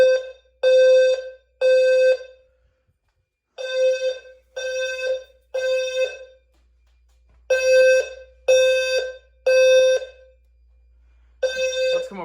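Home fire alarm system sounding during a test, a loud close electronic tone pulsing in groups of three beeps with short gaps between groups, repeating steadily with no talk.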